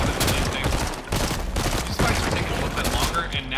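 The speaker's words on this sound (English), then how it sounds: "That SMG." SMG fire in a Fortnite duos match, rapid dense bursts of shots crackling one after another with brief gaps, loud and busy throughout.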